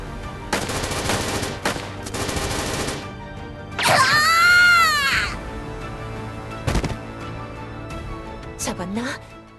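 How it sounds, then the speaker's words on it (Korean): A volley of gunfire crackles in bursts in the Trickcal Revive game, with loud rapid shots, a whooshing sweep mid-clip and a final burst, all under a game soundtrack with voice lines. "일제 사격 개시!"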